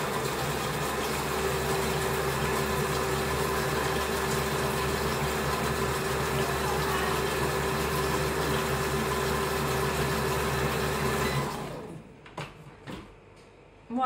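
A Fagor Grand Chef food processor blends a banana and raspberry smoothie, a loud steady motor whir with churning liquid running nearly twelve seconds before cutting off, followed by a few faint clicks and knocks.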